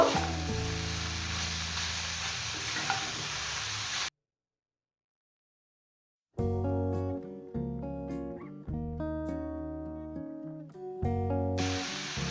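Vegetables and precooked chicken stir-fried on a high gas flame for spring roll filling, hissing loudly for a few seconds before a brief silence gives way to plucked, melodic music.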